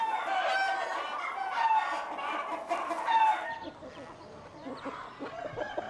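Several chickens of old Alpine breeds cluck and squawk close by in a busy, overlapping chorus, with a rooster's voice rising among them before the flock settles into softer clucking.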